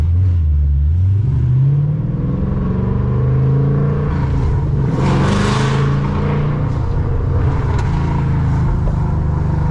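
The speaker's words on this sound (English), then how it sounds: "Car has a good sound to it" Ford Mustang GT V8 engine and exhaust heard from inside while driving late at night in the city, a loud, deep continuous rumble that swells under acceleration, with no talking.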